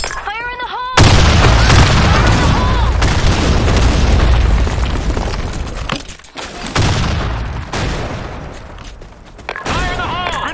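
Grenade blasts and heavy gunfire from the shooter game Blackshot, loud and almost continuous for about nine seconds, with a brief lull near the middle and short in-game voice callouts at the start and end.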